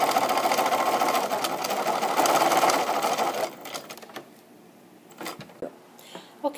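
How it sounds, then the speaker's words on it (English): A home sewing machine stitches a quarter-inch seam around a fabric mitten, running steadily and loud for about three seconds before stopping, followed by quieter handling clicks and rustles. "Next, I'm going to sew about a quarter of an inch all the way around."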